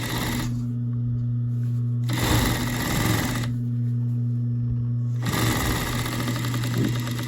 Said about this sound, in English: And now I'm just going to go back in here and finish this seam.